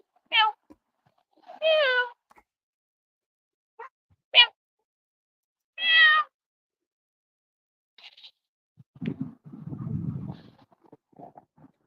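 A person imitating a cat, giving a series of high, wavering meows in short separate bursts with pauses, followed by some low rustling noise near the end.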